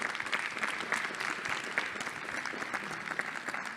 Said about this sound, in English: I think we can give all of the presenters, both those that presented via video and online, another huge round of applause.